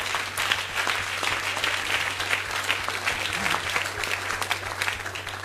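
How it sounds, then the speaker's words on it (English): A church congregation claps steadily and continuously for several seconds, a dense patter of many hands with a low hum underneath. "Let's clap for Jesus Christ."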